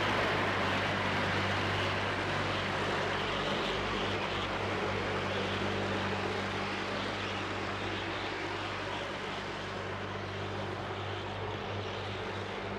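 Chevrolet Nova and Cadillac drag race cars fire up at the Strip at Las Vegas Motor Speedway, their engines holding a steady, loud, droning roar with a deep low rumble for the whole stretch, without any talk.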